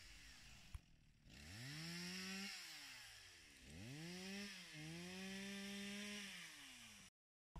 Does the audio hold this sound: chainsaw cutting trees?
yes